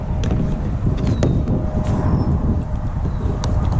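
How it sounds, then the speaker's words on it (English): Steady 15-mile-an-hour wind buffeting a microphone while kayaking on open water, a continuous low rumbling roar with no talk. "15-mile-an-hour wind in a kayak. It just blows you all over the place."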